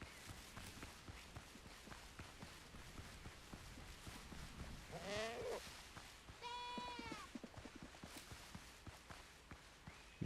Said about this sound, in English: I don't think I want to deal with the goat leader right now.